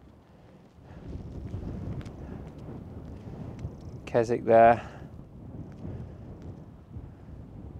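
Steady wind buffets outdoors beside a lake, a low rumbling gusty noise against the microphone, while someone talks briefly over it.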